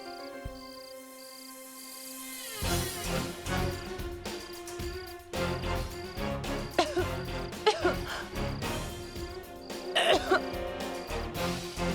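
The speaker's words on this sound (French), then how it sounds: "On dirait que c'est quelqu'un qui tousse." Repeated harsh coughing sounds erupt in uneven bursts over a tonal musical background, loud and close, with short gaps between fits.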